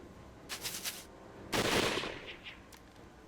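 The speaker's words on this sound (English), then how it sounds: "A second volley of gunfire rattled through the air." Gunfire volley in the Hakuoki video game: a short rattling burst of rapid shots, then a louder, denser crackling volley that fades, with no voices.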